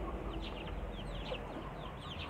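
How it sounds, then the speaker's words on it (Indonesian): Free-range kampung chickens cluck softly in a pen, short scattered calls over a steady low rumble of background noise, faint and somewhat distant. "di hadapan kita ini sudah ada ayam kampung yang dulu pernah saya masukkan ke dalam video tutorial"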